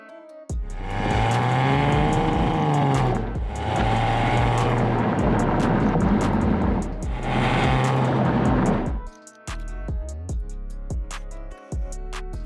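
A Maserati Quattroporte Gran Lusso drives past in loud, close engine sweeps that rise and fall three times, with a strained high note on each pass, then fades into quieter engine rumble with intermittent clicks.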